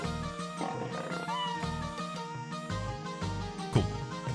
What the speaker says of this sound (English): All I hear is meowing.